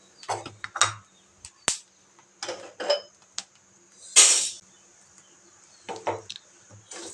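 Horse gram dry roasting in a pan crackles and pops in short, irregular bursts with gaps between, mixed with a few sharp metallic clinks of utensil against pan.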